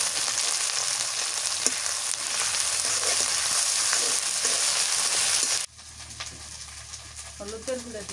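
Garlic paste sizzles loudly in hot oil in a pan for fish curry, a steady hiss that drops abruptly partway through to a quieter frying with a few clinks.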